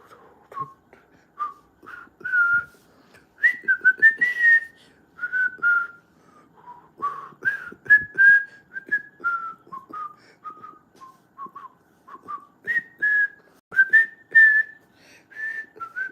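A person whistles a wandering tune nearby, short melodic phrases with brief pauses, steady and clear throughout.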